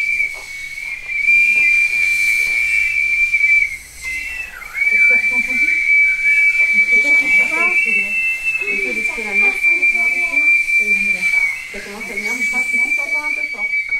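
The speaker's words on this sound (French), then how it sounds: "Ce que vous entendez, ce sont des sifflets en escargot." Whistles made from snail shells, played in a green-music school setting, give a steady high shrill tone that holds with small wavering breaks while people talk over it in the background.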